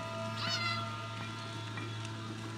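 A cat in an Elder Scrolls video game gives a short, clear meow near the start, then quieter mewing over a steady low hum of background music.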